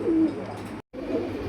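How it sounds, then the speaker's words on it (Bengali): Pigeons cooing close by in a steady, low murmuring stream, briefly cut by a short silent gap, no talk. "বলতে পারেন রাব্বি ভাই আজকে এত কম দামে কেন কবুতর দিচ্ছেন আপনি?"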